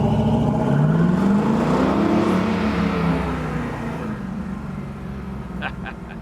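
A 1967 Camaro convertible with a non-Positraction 12-inch rear end accelerates away, its engine climbing in pitch and roaring near, then receding and fading as the car pulls off, with a faint squeal of the right rear tire spinning.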